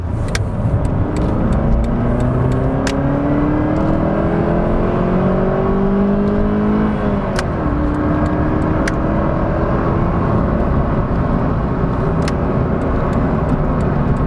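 A Ford Puma's small engine hums steadily up close, its pitch climbing as it accelerates, then dropping at a gear change and rising again, with occasional clicks.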